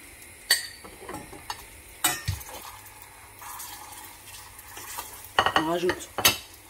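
Caramel cooking in a pan, with a low sizzle and bubbling under sharp scrapes and clinks of a utensil stirring against the pan in irregular bursts, close and fairly loud.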